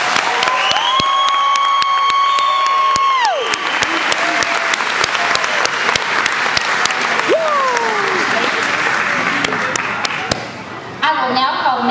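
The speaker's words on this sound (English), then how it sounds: "let's give them a big round of applause." Loud, steady applause from parents and guests at a 2012 kindergarten graduation ceremony, mixed with cheering voices, holds for about ten seconds before thinning out as talking resumes.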